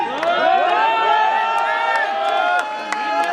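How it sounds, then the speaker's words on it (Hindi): Crowd cheering and whooping with scattered clapping, a dense, continuous roar of a live audience greeting a mono-act performer at an IIT Bombay event, staying loud throughout. "तालियों के साथ स्वागत करते हैं प्यारे से मोनोएक्ट परफॉर्म करने वाले रंजन राज का"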